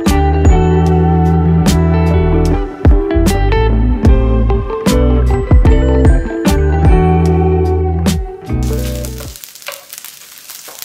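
Sharp metallic clanks and taps from a metal spatula striking a hot hibachi griddle, rapid and irregular, over a steady sizzle of food frying in olive oil.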